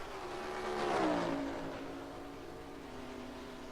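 Race car engine in NASCAR Racing 2003 on a long straightaway under caution, a steady droning hum that swells to a near pass and then fades back to a constant drone.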